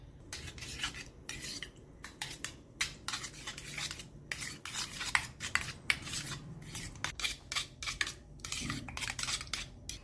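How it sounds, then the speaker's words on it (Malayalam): A spoon stirs raita with chili powder, cumin and chopped coriander leaves in a bowl, giving soft, irregular scraping and clinking strokes, close and fairly quiet, with no talking. "ഇനി ഇതിലേക്ക് കുറച്ച് മല്ലിയില മുറിച്ചതും കൂടെ ചേർത്ത് എല്ലാം കൂടി നല്ലോണം ഇളക്കി മിക്സ് ചെയ്യാം"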